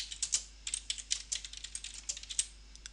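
Rapid, uneven keystrokes on a computer keyboard, close and crisp, pattering steadily for a few seconds with no voices.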